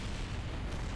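A rocket blowing up in Kerbal Space Program, a deep, rumbling boom that fills the whole second at moderate loudness with no talking.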